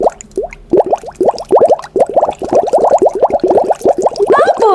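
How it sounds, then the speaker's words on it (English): Quick bubbly pops and plops follow one another in an uneven, rapid series, close and fairly loud, with no talking. "I can hear popping bubbles."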